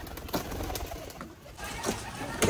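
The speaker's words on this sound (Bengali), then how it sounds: "এদিকে পায়রাগুলো সব আটকানো" Pigeons shut inside their coop coo in low, throaty, repeated calls, close and fairly loud, over a busy background of rustling.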